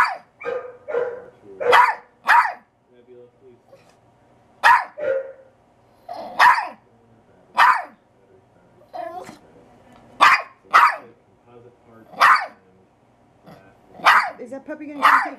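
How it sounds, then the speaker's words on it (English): Big puppies barking from a video, loud separate barks spread across the stretch with short gaps, a growl now and then, and a person talking softly between them. "You don't like the sound of those big puppies, do you?"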